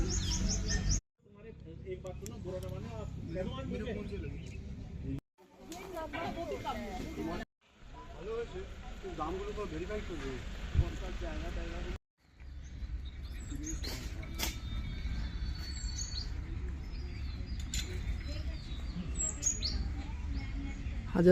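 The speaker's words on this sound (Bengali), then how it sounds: "পাখির এই কিচিরমিচির শব্দের মাঝখানে বসে বসে" Many birds chirp and call outdoors in the hills of Uttarakhand, a busy chorus of twitters spread through the background while a person talks over it, broken by short cuts to silence.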